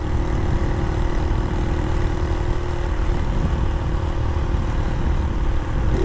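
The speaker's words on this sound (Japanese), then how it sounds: "何よりもこの排気音。" A Honda Magna 50 motorcycle runs while being ridden, its small engine and exhaust giving a steady, close, continuous drone with a constant tonal hum and no breaks.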